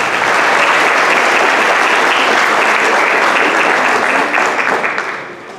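A crowd applauds loudly and steadily for a mariachi band at an awards ceremony in Mixquiahuala, holding dense and even before thinning out near the end.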